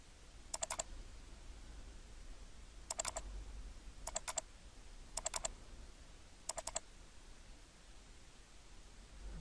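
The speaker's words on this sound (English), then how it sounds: "Let me try double-clicking on it, see if it'll open that way." A computer mouse double-clicks in quick pairs, about five times, faint and sharp over steady background hiss with no talking.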